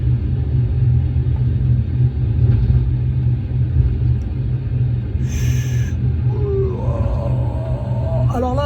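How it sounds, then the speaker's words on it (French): Airbus A320 jet engines rumble as they are throttled back while the airliner taxis, a steady deep roar heard from inside the aircraft, with faint higher whines toward the end. "Je vais baisser les réacteurs."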